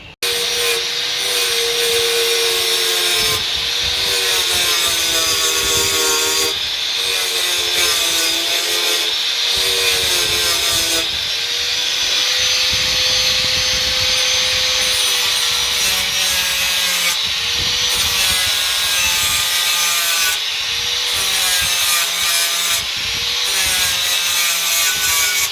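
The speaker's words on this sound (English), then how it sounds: "I just ground those off with a flat wheel." Grinding welds off the steel floor of a Mk2 Ford Escort with a flat wheel, a continuous loud abrasive rasp with strokes and pauses recurring every couple of seconds for about half a minute.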